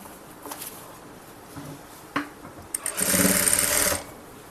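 A sewing machine stitches a blouse seam, a few short taps and bursts early on, then one steady run of rapid stitching near the end, fairly close and with no talk over it.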